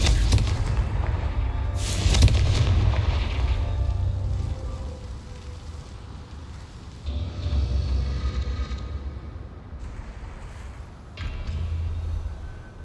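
Confringo fire spell explosions in Hogwarts Legacy, a series of loud booming blasts with rumbling tails and a sharp crack, rising and fading in several bursts over a roaring background.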